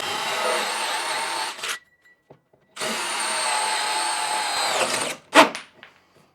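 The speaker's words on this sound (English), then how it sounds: "That's how you get a nice cut with those hole saws." A drill fitted with a 2-inch hole saw cuts into plywood for a door latch, two sustained whining bursts close by with a brief pause between and a short rattle at the end.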